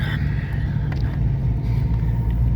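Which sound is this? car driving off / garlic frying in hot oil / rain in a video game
car driving off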